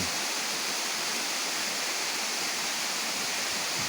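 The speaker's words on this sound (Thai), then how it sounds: "ตามธรรมชาติครับ น้ำตก บนดอยครับผม" A natural mountain waterfall flows steadily from above, a dense, continuous rushing roar that stays even and close throughout with no voices.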